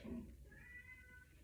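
A pet cat meows at the door to be let in, a single drawn-out, fairly faint meow, close by, with a brief low voice just before it.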